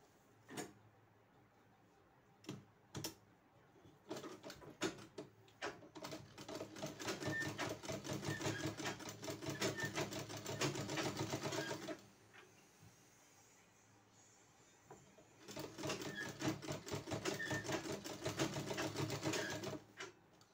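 A sewing machine stitches a frill onto a blouse in bursts of rapid, steady mechanical chatter, with short pauses and a longer break midway, clear and close.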